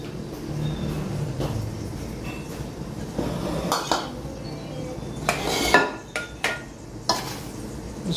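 Flour, semolina and atta are sifted through a metal sieve in a home kitchen, giving a soft rustling hiss broken by several sharp metallic taps and clinks against the bowl, close and fairly loud.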